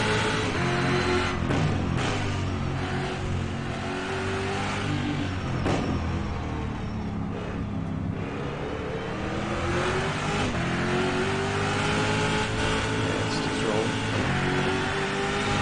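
Simulated Camaro race car engine lapping Mount Panorama in rFactor 2, a steady loud engine drone with rising and falling revs through gear changes, while someone talks over it.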